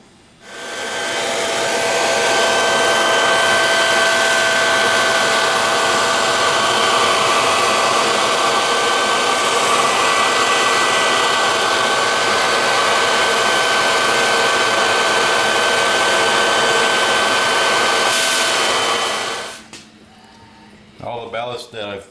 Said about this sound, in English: the next step is to go ahead and vacuum any loose pieces